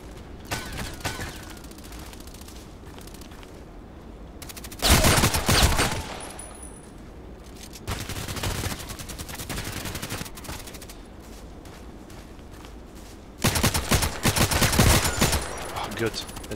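Assault rifle fire in Contract Wars comes in two loud sustained bursts of rapid shots, with scattered single shots and quieter distant gunfire between them.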